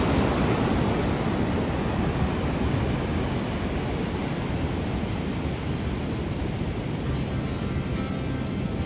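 Pacific Rim National Park surf near Tofino rolls in as a continuous loud roar of breaking ocean waves, dense and unbroken, with no voices.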